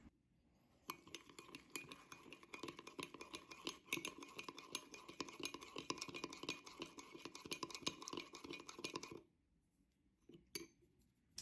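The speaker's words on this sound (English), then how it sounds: "Now you're going to stir it all together." A spoon stirs brownie batter inside a mug, clinking and scraping steadily against the ceramic for about eight seconds, then the sound stops, leaving near silence broken by one or two final taps.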